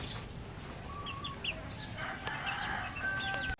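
Chickens and chicks in a backyard farm, with soft clucks, a rooster call and high thin peeping cheeps scattered over a constant outdoor background noise, close by and moderately loud.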